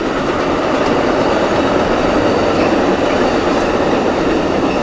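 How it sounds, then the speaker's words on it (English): An Amtrak passenger train roars past close by, a loud, continuous rumble with faint rhythmic clatter of wheels on rails. "Oh, it's Amtrak train."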